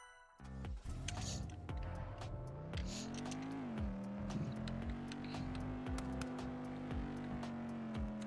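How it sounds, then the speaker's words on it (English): A police cruiser drives in the video game Car Crushers, its engine a steady synthetic drone that rises and settles in pitch, with a few brief clicks and knocks along the way. "so now we got to get my new police cruiser."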